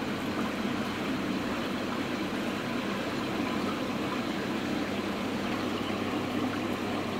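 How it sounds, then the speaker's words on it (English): Pond water flows back into an Evolution Aqua Nexus 220 filter after cleaning, a steady, close hiss of rushing water that holds even and continuous throughout. "That water flying back in there now."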